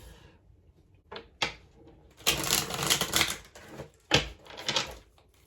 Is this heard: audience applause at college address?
no